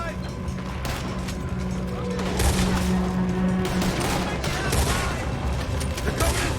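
Gunfire during a shootout in Red Dead Redemption 2, with sustained volleys of rifle and pistol shots and mechanical clacks throughout. Shouting voices and in-game dialogue play over the fire.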